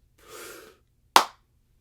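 A soft inhaled breath is followed by one sharp, close hand clap, demonstrating a chamber-music cue, with silence after.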